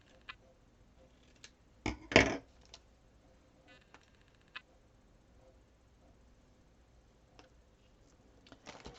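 Scissors snipping a strand of ribbon for a handmade flip book, one quick pair of crisp close cuts followed by faint small handling ticks in a quiet room.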